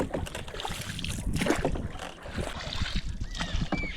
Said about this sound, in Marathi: अगदी यामा लावल्यासारखी होडी वलवता